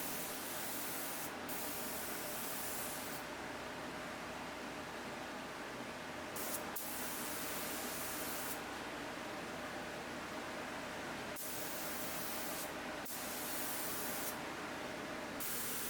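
Clear vinyl sealer hisses from a spray gun onto laminate furniture in a steady, close, continuous spray. Brief gaps and bursts break up the hiss, and no one talks.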